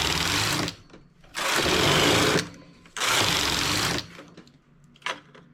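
Knitting machine carriage sliding back and forth across the needle bed while knitting rows of a sleeve: three long, loud whooshing rattles with short pauses between them, each followed by a faint click.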